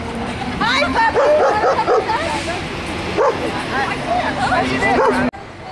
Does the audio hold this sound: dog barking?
yes